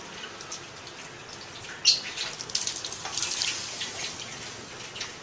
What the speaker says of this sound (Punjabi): ਦੇਖੋ, ਪਾਣੀ ਜਿਹੜਾ ਇਹਦੇ ਵਿੱਚ ਹੁਣ ਉਹ ਠੰਡਾ ਪਾਣੀ ਆ।